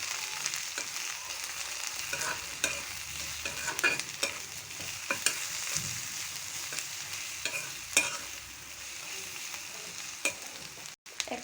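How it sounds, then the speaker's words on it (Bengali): Onions sizzle in a pan as they are stirred with salt, turmeric and coriander powder for a raw mango pickle, with repeated spatula scrapes over a constant frying hiss and no voices. "এখন দিচ্ছি ধনিয়ার গুঁড়া, পেঁয়াজটা নেড়ে দিচ্ছি।"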